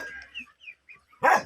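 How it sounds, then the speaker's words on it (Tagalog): A dog barks once, sharp and close, near the end, after a few faint chirping sounds in an otherwise quiet outdoor setting. "Galit chatin yung aso na to."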